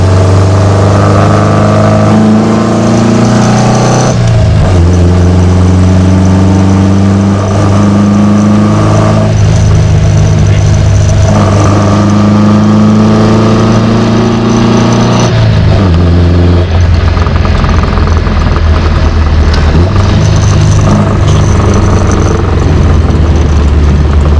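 A 1971 Ford Capri engine droning loudly on the road, revving up through each gear and dropping pitch at every shift, several clear pulls in a row with no talk over it.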